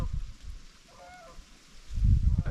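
A goose honks faintly in the distance outdoors at a lakeside canoe campsite, a few brief calls over a low rumbling background.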